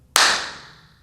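A single sharp hand clap in a room, followed by a long decaying reverberant tail with a fluttering echo that fades out over about a second.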